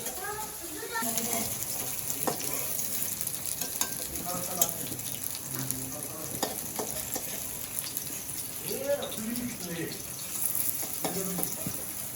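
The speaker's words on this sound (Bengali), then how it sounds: "তরকারি একটু গরম করে নিতেছি" A pan of vegetable curry reheats with a continuous sizzle and intermittent stirring scrapes, while voices, including a child's, chatter over the cooking throughout.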